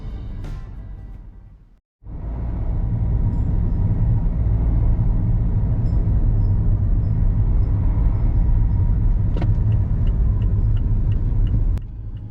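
Steady low engine rumble and road drone inside a moving car near the hamlet of Fitling, East Riding of Yorkshire, continuous and loud after a brief dropout at the start.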